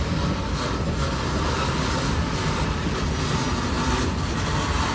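A short Norfolk Southern manifest freight train rolls past in Roanoke, Virginia, giving a loud, steady rumble and clatter of railcars that stays constant and close throughout.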